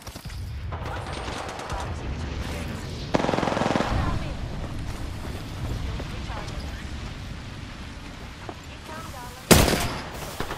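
Gunfire in Apex Legends on the Olympus map, with bursts of automatic weapon fire running under voice chat and a loud sharp shot near the end.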